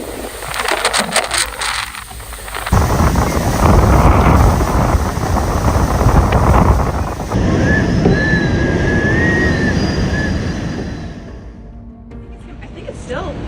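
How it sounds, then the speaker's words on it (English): Heavy rain and strong typhoon winds of Typhoon Gaemi lash Suao in Yilan County, Taiwan, a loud, continuous roar of wind and downpour buffeting the microphone, easing slightly near the end. "Heavy rain and strong winds hit Suao in Yilan County, Taiwan as Typhoon Gaemi approached."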